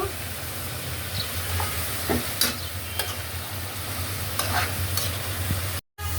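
Onions stir-frying with garam masala in a pan: a steady, close sizzle with occasional spatula scrapes and taps, cut by a brief drop to silence near the end.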